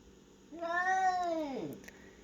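One house cat gives a single drawn-out meow that rises and then slides downward, close and moderately loud, during a tense standoff with a newly arrived cat.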